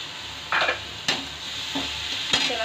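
Chili, ginger and garlic paste being stirred in a pan, with a few scraping strokes and soft sizzling, close and fairly quiet, no talk.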